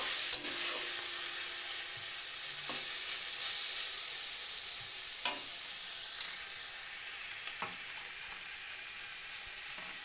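Spring roll filling sizzling steadily in a pan as chili flakes are stirred through, a soft continuous frying hiss broken by a few light spatula taps.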